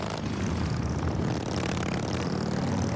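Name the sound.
Harley-Davidson motorcycle engine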